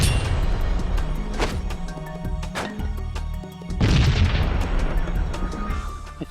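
Repeated heavy booms of grenade explosions in the shooter game Perfect Dark Zero, set in a jungle, roll out loud and close with low rumbling tails over a constant game backdrop and no speech.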